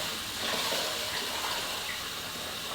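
Cold tap water runs steadily into a bowl while rice is rinsed, a continuous close hiss and splash that holds at an even level throughout, with no talking.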